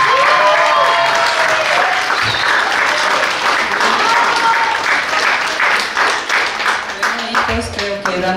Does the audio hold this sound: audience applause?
yes